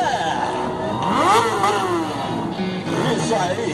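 A stunt motorcycle's engine revs up and down in rising and falling sweeps during a riding exhibition, loud and close, while an announcer talks over it.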